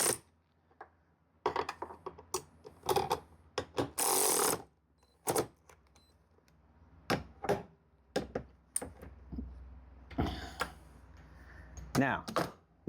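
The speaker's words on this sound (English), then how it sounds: "And then you'll go ahead and you'll tighten your bolt down to the provided nut." Ratchet work tightening a bolt down onto a nut while fitting a hammock bracket inside a Ford Bronco, a busy run of close metallic clicks and clanks with short loud bursts and brief pauses.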